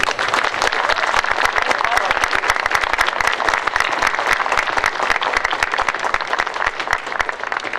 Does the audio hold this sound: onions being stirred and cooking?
no